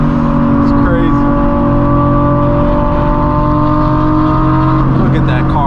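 A loud sports car engine with aftermarket exhaust revs and roars steadily with a throaty exhaust drone, close by and sustained, with faint background chatter.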